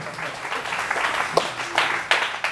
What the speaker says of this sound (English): And you can clap it up, guys.